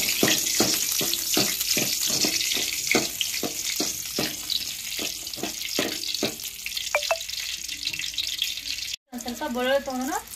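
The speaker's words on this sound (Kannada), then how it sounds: "ಇವಾಗ ಒಂದು 4 ಮೆಣಸಿಕಾಯಿ ತೊಗೊಂಡಿನಿ ನೋಡ್ರಿ. ಸ್ವಲ್ಪ ಅದನ್ನ ಫ್ರೈ ಮಾಡ್ಕೋಬೇಕು." Four green chillies frying in a pan in a village kitchen, a steady sizzle with regular stirring scrapes, followed by a brief gap and some wavering clatter near the end.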